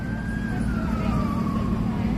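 A police car siren wails steadily over loud, constant city traffic rumble in New York's Soho and Chinatown, the siren's tone gliding slowly downward as if passing.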